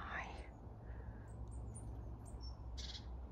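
Blue tits call around a garden bird feeder, giving faint, scattered high chirps over a steady, dense outdoor background hiss.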